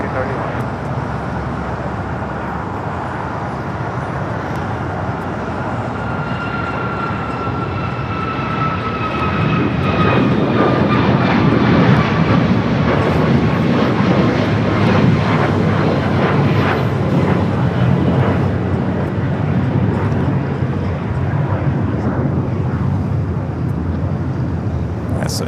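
A United airliner takes off from runway 25 right at LAX, its jet engines roaring steadily and swelling louder midway through a long rising whine as it accelerates down the runway, with faint talk in the background.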